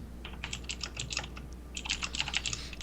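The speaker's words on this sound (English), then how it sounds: "I'm just typing a message to Kylan" Rapid clicking keystrokes on a computer keyboard as a message is typed, two quick bursts of close, crisp taps separated by a short pause, with no talking.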